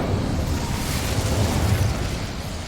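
Incendio fire spell cast in Hogwarts Legacy, a loud, dense low rumbling burst of flame that roars steadily for a few seconds without fading.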